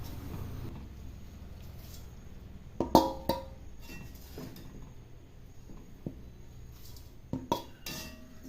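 Roasted coconut mix for chutney powder is moved from a pan into another vessel, with scattered utensil clinks and scrapes against metal at a quiet level and no talking.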